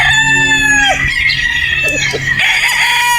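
A Boston Roundhead broodstag rooster crows close and loud, a drawn-out cock-a-doodle-doo followed by a second crow, with clucking from other fowl nearby.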